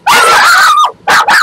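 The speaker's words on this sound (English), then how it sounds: "And sorry about the dog." A dog in a painting studio gives two loud, close, drawn-out yelping barks with a whining, howl-like quality, separated by a short gap.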